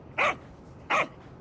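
A dog gives two sharp, close barks spaced under a second apart, each short and loud against quiet background.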